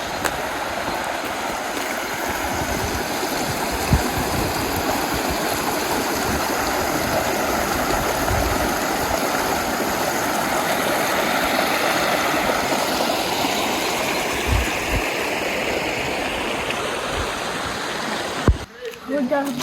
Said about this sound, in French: Voilà la rivière.